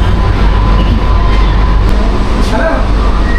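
Sealdah–Ranaghat AC local train running near Bidhannagar Road, heard from inside as a loud, steady rumble of wheels and carriage throughout, with no speech.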